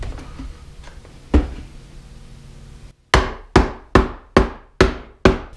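Wheels snap onto the plastic base of a RIDGID 9-gallon wet/dry shop vacuum: one loud click after a low background hum, then a quick, even series of six sharp, close snaps.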